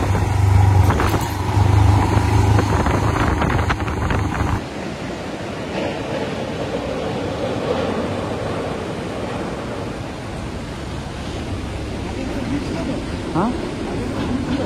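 Steady rushing wash of the Teesta river in the Sankalang area of North Sikkim, heard as continuous broadband roar with wind buffeting the microphone, heavier rumble in the first few seconds then a constant even flow to the end.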